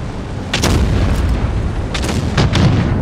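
Tank guns firing in World of Tanks Blitz, several loud booming shots spread over a few seconds, with a couple of sharp cracks around the middle and near the end over a rumbling battle background.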